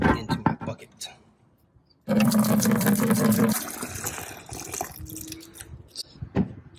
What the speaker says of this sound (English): let's pour this into my bucket